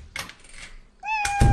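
A cat gives a single clear meow near the end, rising then falling, close and fairly loud, after a few soft knocks and clicks.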